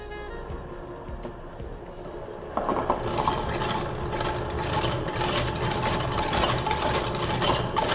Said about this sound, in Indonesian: Kita masukkan telur. Kita akan mixer kembali.